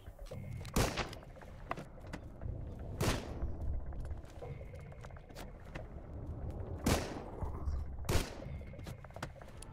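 Gunfire in the survival game Sunkenland fires as a few sharp, separate shots spaced a couple of seconds apart over a steady low background hum.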